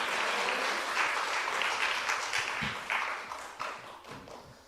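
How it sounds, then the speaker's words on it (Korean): A church congregation at a Wednesday morning worship service claps together, a moderately loud burst of applause with a few thuds that slowly thins and fades out. "우리 하나님께 영광 박수 올려드립니다."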